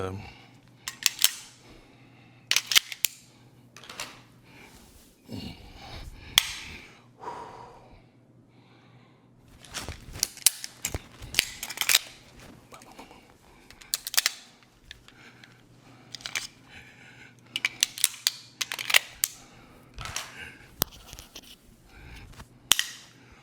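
Sharp metallic clicks and clacks of dry fire pistol practice and a magazine exchange come in scattered bursts, some loud and crisp, mixed with breathing and brief snorts between quiet gaps.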